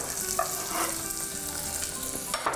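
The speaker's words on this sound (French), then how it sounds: "Je vais mettre l'oignon. C'est bon. L'oignon. OK. Laissez ça cuire un petit peu." Onion frying in a pan with butter and oil, a steady close sizzle with crackles and occasional stirring scrapes, no talking.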